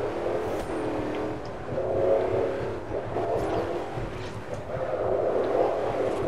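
A car drifts around a turn while racing a Ferrari in the Forza Horizon video game, its engine droning and revving in waves over a continuous mid-level roar.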